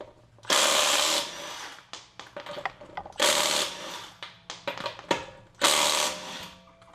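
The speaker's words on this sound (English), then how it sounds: "I would have never guessed in a million years that an electric impact wrench could be that powerful" A Milwaukee Fuel electric impact wrench hammers loose a bolt, torqued to 140, on a 2011 GMC Acadia's front lower control arm, firing three loud rattling bursts separated by clinks and ratcheting handling sounds.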